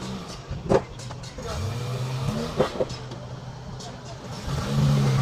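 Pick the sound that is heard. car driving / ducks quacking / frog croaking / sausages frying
car driving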